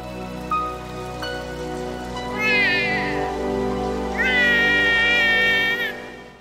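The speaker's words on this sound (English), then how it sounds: "It cries out as the rain begins to pour." A cartoon Litten, a small cat Pokémon, cries out in two drawn-out, wavering meows over the steady hiss of pouring rain, the calls loud and close.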